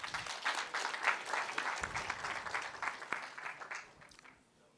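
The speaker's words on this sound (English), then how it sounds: "Another huge round of applause." Audience applause at a health hackathon winner announcement, a steady wash of many hands clapping at moderate distance that fades out toward the end.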